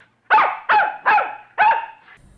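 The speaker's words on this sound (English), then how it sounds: "Freckles barked louder" Freckles the dog, shut away in a basement in a storybook sound effect, barks four times in a steady rhythm, loud, close and alone.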